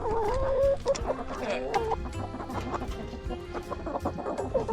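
Chickens cluck and murmur close by, one bird's drawn-out call rising above the flock's busy chatter.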